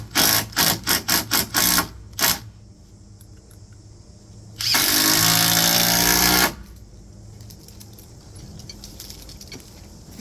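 A power drill drives a screw into wood framing for a fence: a quick series of short trigger bursts, a pause, then one sustained whirring run of about two seconds that stops, close and loud, with no talk.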